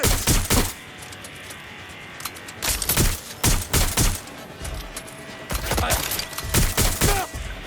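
Bursts of automatic gunfire in Watch Dogs: Legion, loud rapid volleys repeating in several clusters with short pauses between them, close and prominent.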